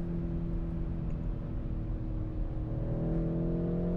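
A BMW X5M (F85) with an automatic gearbox accelerates, its steady engine drone rising in pitch with a shift partway through, moderately close and heard alone with no talk.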